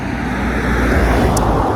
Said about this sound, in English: Cars are starting to stack up now